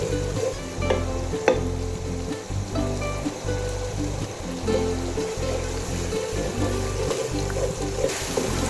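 Spices for mutton pulao fry and are stirred in a pot, a continuous loud sizzle with periodic scraping strokes of the spoon, steady throughout with no talking.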